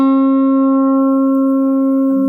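A single sustained guitar note rings steadily and loudly, its tone clean and harmonically rich, held without fading for a couple of seconds.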